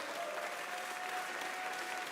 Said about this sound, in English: give a massive round of applause for these incredible racers on the stage